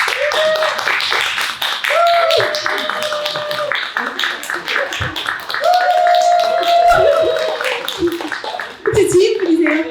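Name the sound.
audience applause welcoming the speaker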